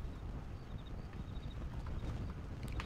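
Horse hooves clip-clop steadily in Red Dead Redemption, a continuous rhythmic trot at moderate distance over a dense bed of game ambience and faint wind.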